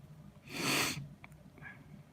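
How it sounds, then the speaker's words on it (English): A single loud, breathy sniffle rushes in through the nose, followed by a couple of faint, short nasal sniffs. "Had the morning sniffles earlier"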